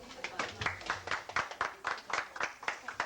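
Rhythmic hand clapping at a hair show preparation session, about a dozen steady claps in a row, moderately loud with faint voices in the background.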